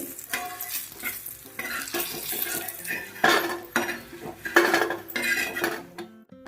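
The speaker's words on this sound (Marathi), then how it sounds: "पनीर फ्राय झालेले आहे आता हे काढून मी दुसरे टाकते" Paneer frying in hot oil in a kadai, with loud metal scraping and clanking as a spatula stirs and lifts the pieces, under a steady low sizzle.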